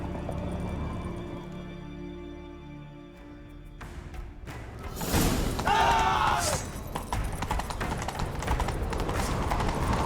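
Horse hooves clatter in a quick galloping rhythm in a video game after a musical opening, with a sharp crash and rushing noise over the hoofbeats.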